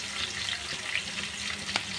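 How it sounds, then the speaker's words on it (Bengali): Potatoes fry in hot oil with turmeric and salt, giving a steady, dense sizzle that holds at the same loudness throughout. One brief, sharper crackle stands out near the end, and no one speaks. "আলুগুলো ভেজে নিচ্ছি, একটু হলুদ নুন দিয়ে দিলাম"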